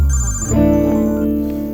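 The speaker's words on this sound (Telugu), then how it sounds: "నీ ఫోన్ రింగ్ అవుతుంది చూడు" A mobile phone in a Telugu film scene rings loudly and close, with a bright electronic ringtone melody of sustained tones that changes pitch once partway through, and no speech.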